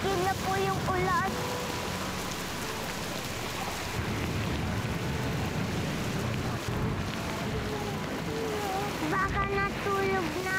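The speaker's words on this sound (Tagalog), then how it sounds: "Papa Jesus, sana po tumigil na po yung ulan." Heavy rainstorm pouring down in a constant loud wash of broadband noise, with faint rumbles underneath and a voice speaking over it near the start and end.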